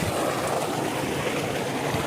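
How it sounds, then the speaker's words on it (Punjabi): A 10 horsepower electric tubewell motor pumps water on a village farm, making a dense, steady rushing roar of gushing water with no pauses, loud and close. "ਇਹ ਆਪਾਂ 10 ਹਾਰਸ ਪਾਵਰ ਦੀ ਮੋਟਰ ਤੇ ਇਹ ਟੂਬਲ ਲਾਈ ਹੋਈ ਆਪਾਂ।"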